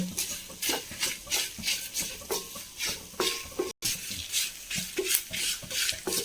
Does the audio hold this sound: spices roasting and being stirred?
yes